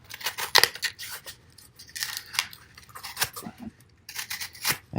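A Buck Compadre camp knife chops and slices through a battered cardboard box, giving irregular crunching, tearing bursts, some sharp and close, separated by short quiet gaps.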